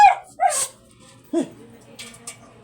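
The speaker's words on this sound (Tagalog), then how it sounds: "Yung aso nito. Bigla-bigla lang sumisigaw." A dog barks a few times, sharp and close, with short gaps between the yelps and quiet background in between.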